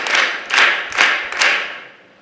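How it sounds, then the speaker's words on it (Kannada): Hand clapping from an audience welcoming guests at a school Scouts event, heard as four separate bursts of claps that swell and fade about every half second, moderately loud with no talking over them. "ಅವರನ್ನು ಚಪ್ಪಾಳೆಯೊಂದಿಗೆ"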